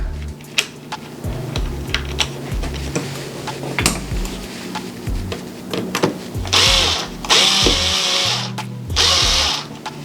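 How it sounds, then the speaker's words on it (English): A screwdriver drives a screw into a new toy, with bursts of whirring motor noise and clicking mechanical rattles from close by, and two longer loud buzzing runs toward the end. "Is it just not catching, or am I unscrewing? Nope, I'm screwing."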